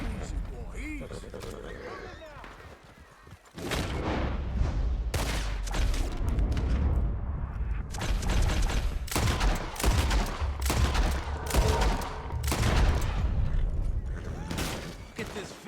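Gunfire in the Western game Red Dead Redemption 2 crackles in rapid, loud volleys of shots after a quieter opening, with mechanical clicks and voices talking over the shooting.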